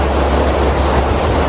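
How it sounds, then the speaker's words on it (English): Broad, steady ocean surf rolls in at a beach in a continuous loud wash of noise with no distinct breaks, and no voices are heard. "And so you can hear the ocean"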